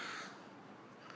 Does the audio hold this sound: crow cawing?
yes